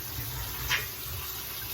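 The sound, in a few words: rinsing navy beans under running tap water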